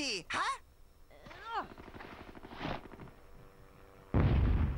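A grenade in Hogs of War, the PS1 game, bursts in a loud, sudden blast near the end, after cartoonish squeaky game voices, scattered popping and shorter bangs.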